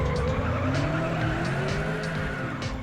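Tires squeal as a car skids in the Uncrashed FPV drone simulator video game, a loud sustained screech with engine drone running throughout, close and continuous.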